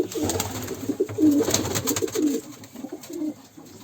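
Kanat posta pigeons coo inside a village coop, with several close, soft, rolling coos repeating over quiet rustling.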